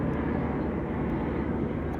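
Steady, loud engine roar of an airplane passing overhead near an airport, a continuous broadband drone filling the whole moment with no talk.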